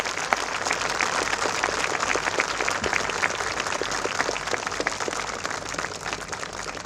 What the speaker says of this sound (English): I would want you guys to give a biggest round of applause for all the teachers here.